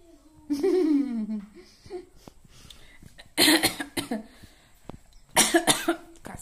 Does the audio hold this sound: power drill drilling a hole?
no